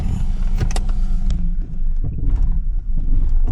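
A 1996 Mercury Cougar XR7 engine running rough and close to stalling, a loud uneven rumble that surges and sags with sputtering, irregular pulses and no steady idle.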